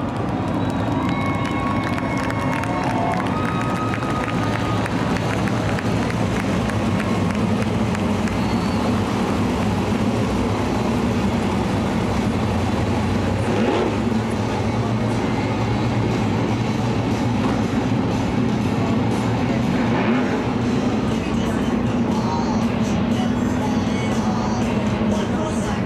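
Wingless sprint cars roaring around the dirt oval at Cottage Grove Speedway during a Northwest Wingless Tour main event, a loud continuous engine drone with a crowd noise bed throughout.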